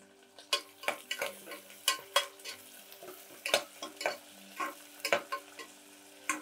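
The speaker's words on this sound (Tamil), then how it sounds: "போட்டு நல்லா வதக்கி விடுங்க." Onions sautéed in a pan for a vegetable biryani, heard as a series of sharp scraping, stirring clatters over a soft sizzle, close and fairly quiet, with no talking.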